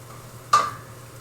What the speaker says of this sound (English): that pan's still pretty hot. I can hear it sizzling still.